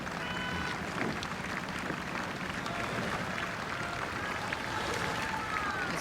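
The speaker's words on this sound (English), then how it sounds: "As they come past the grandstand, rightfully receiving the applause." Grandstand crowd applauding a Gloucester quad sculls crew as it rows past at Henley Royal Regatta, a steady wash of clapping and crowd noise over a continuous outdoor bed, with a commentator's voice over it.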